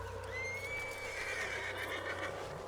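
A horse in Red Dead Redemption 2 lets out one long, clear, rising and falling whinny that lasts about two seconds against a quiet game backdrop.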